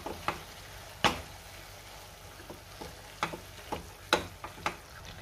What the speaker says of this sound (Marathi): आपण पुन्हा एकदा मिक्स करून घेऊया आणि पावभाजी मॅशरनी थोडंसं मॅश करून घेऊया.